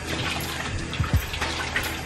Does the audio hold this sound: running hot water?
yes